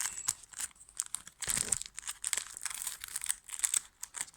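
Brawl Stars trading card pack torn open by hand, a run of close, crinkly ripping and crumpling bursts of foil-like wrapper across the whole stretch, with no talking.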